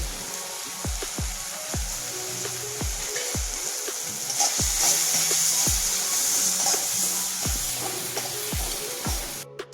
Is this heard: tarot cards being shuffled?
no